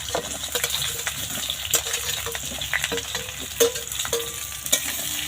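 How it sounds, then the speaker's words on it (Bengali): Chopped rose apples (jamrul) sizzle in hot oil with panch phoron spices for a pickle, a steady crackling fry broken by sharp scraping stirs and clinks of a spoon against the pan, close and without voices. "তেলের মধ্যে দিয়ে দিচ্ছি কেটে রাখা জামরুলগুলো"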